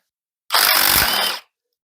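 A power tool spins nuts off L61 engine studs in a single loud, close burst of about one second of buzzing whir, starting and stopping abruptly with nothing else around it.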